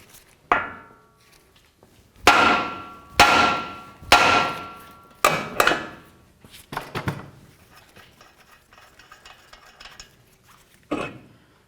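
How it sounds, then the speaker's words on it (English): A hammer strikes the steel steering knuckle of a 1999-2007 Ford F-250 during tie rod replacement in a series of sharp, ringing blows, about six in quick succession, then a few lighter taps and one final hit. "continue on to bonking along the knuckle with our hammer"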